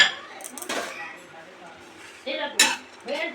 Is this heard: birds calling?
no